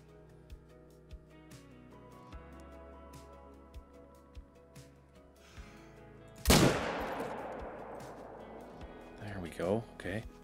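A single loud rifle shot at a moose in the hunting game theHunter: Call of the Wild, a sharp close crack with a long fading echo, followed by quieter thuds, over soft ticking.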